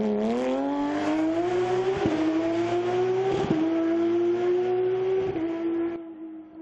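A 2010 Porsche rally car at Rally Islas Canarias, its engine loud and close as it revs hard and climbs through several quick gear changes about every second and a half, then fades away at the end.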